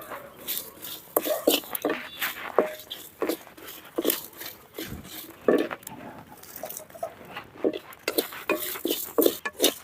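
Eight dry red chillies with a pinch of salt are stirred and tossed in a pan for village-style narthangai pachadi, giving a steady run of dry scraping, rattling and clinking strokes at close range, with no talk.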